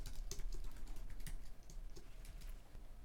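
Quiet, rapid keystrokes clatter on a computer keyboard as code is typed, an irregular run of soft clicks close to the microphone with no talking.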